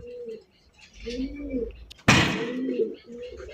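Pigeons coo in soft, repeated rolling calls at a pigeon farm keeping racer pigeons, with a sudden sharp slam or flutter partway through and a faint voice nearby.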